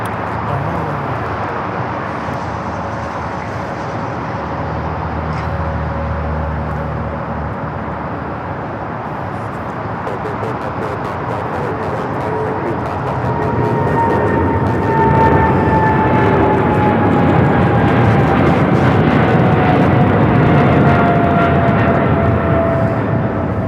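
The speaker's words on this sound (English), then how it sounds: "we do have an Air China 777 freighter now rolling down that 25 left" An Air China Boeing 777 freighter rolls down runway 25 left at LAX and lifts off, its engine roar building from a moderate rumble to a louder, rising whine in the second half, heard alone.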